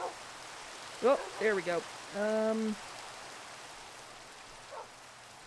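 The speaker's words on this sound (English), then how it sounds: "this seems like normal rain and not terrible lightning rain" Normal rain in a video game, with no lightning, falls as a steady soft hiss throughout, while a voice speaks briefly over it.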